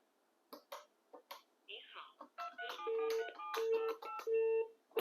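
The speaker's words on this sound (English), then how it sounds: "When you dial a number like this one, you want to pause." Short electronic tones from dialing a number on a corded analog landline phone with a large LCD display, a few evenly spaced beeps heard between bits of nearby talk and a cough.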